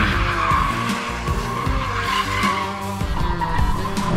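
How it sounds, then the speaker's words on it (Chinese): A BMW M240i spins in place with its rear tires screeching continuously, a loud, sustained squeal layered over a roaring engine held at high revs. "就是一直像这样疯狂的踩着油门，疯狂的原地打转，他依然后轮两个后轮是死死的抓在一起"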